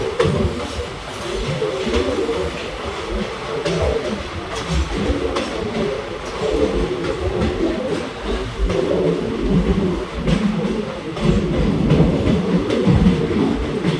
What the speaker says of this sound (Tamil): ட்ரெயின் கிளம்பிச்சு.